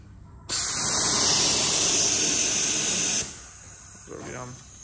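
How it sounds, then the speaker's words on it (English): Compressed air from a compressor hisses loudly and steadily through a vacuum tester on an Abarth 595's cooling system for about three seconds, then cuts off abruptly, leaving faint background noise. "air comes in from a compressor, and as it blows through here, it creates a vacuum through the system"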